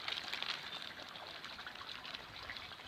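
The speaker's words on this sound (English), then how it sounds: "So all I'm doing now is just putting a little bit of water in," A little water trickles and pours into a pond fish bag, a soft, steady splashing stream that stays faint throughout.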